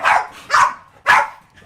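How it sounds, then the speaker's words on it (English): Dogs barking loudly and close by in three sharp, separate barks spaced about half a second apart, with no talk over them. "Oh my gosh, the dogs."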